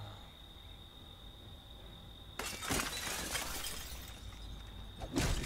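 A door being smashed in the Friday the 13th video game: a loud crashing, splintering burst of breaking wood and shattering, with a steady high tone beforehand and a second sharp impact near the end, no talking.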